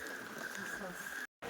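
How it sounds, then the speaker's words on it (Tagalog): Heavy rain pours at the Kamay ni Hesus pilgrimage site, a dense, steady hiss of patter close by that briefly cuts out near the end. "At biglang lumakas yung ulan uli."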